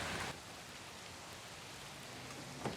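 Steady rain falls outdoors as a constant hiss of drops on surfaces, fairly faint and even throughout, with no voices.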